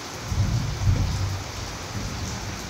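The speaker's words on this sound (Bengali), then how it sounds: "প্রচণ্ড বৃষ্টি পড়ছে, আকাশ দেখাচ্ছি তোমাদেরকে কত জোরে বৃষ্টি হচ্ছে।" Heavy rain pours down steadily in a dense hiss, with low rumbling swells under it, and no one speaks.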